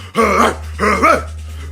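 Dogs bark and growl in two harsh, loud, rough bursts close up, over a steady low hum.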